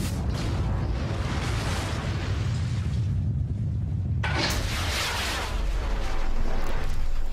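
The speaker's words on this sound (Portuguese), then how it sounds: "A mistura de ar e combustível ficou certa porque deu pra ver explosão" Fuel-air mixture exploding inside an open chimney in a proof-of-concept test: a sustained, loud roaring rumble, then a sharper, brighter burst of noise partway through that stays loud to the end.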